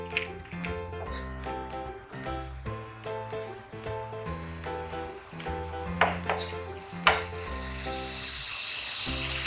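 Boondi batter drops into very hot oil and fries with a lively crackling sizzle. Occasional metal clinks from the ladle sound over steady background music.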